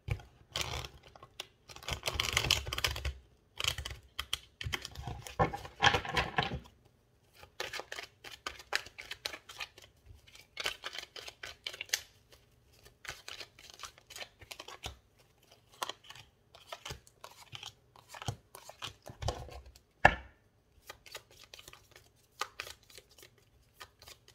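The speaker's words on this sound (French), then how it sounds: "le temps que je batte les cartes" Tarot cards shuffled by hand at a reading, with quick bursts of soft riffling and slapping close to the microphone, interrupted by pauses and scattered single taps, fairly quiet overall and without talk.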